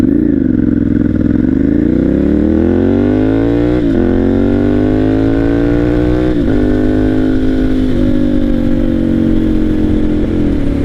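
A Ducati Monster 796 motorcycle engine revs loudly up close, its pitch rising and settling in several throaty surges over a steady rumbling idle, with no voices.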